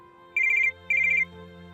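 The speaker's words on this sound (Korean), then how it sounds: "직후 전화." Two short electronic trills from a ringing telephone, each burst warbling rapidly for about a third of a second over a faint background hum.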